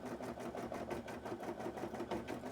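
An embroidery machine stitches cosplay embroidery with a fast, even, pulsing rhythm that runs continuously. The mechanical sound is faint and steady.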